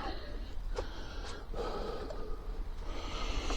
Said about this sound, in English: I'm just breathing hard because I like to have oxygen in my brain